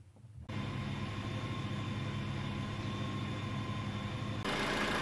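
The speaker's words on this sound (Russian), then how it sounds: "Двигатель сейчас запущен на холодную" A Peugeot 307 with a 1.6 petrol engine idles from a cold start, a steady close hum with an even mechanical drone that kicks in after a brief quiet moment and runs on unchanged.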